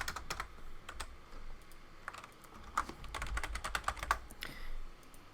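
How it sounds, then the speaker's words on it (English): Fingers typing on a computer keyboard to enter a search on a Windows 10 technical preview PC, a close run of quick clacky keystrokes in uneven bursts with a few sharper taps, no voices. "So we type stuff in like Google,"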